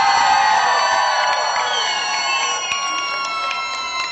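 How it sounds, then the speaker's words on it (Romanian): An audience at the Eurovision Moldova 2015 national final applauds and cheers loudly, a dense wash of crowd noise with whoops that slowly eases over a few seconds. "Hai să trecem prin aplauze la ceea ce înseamnă tensiune maximă."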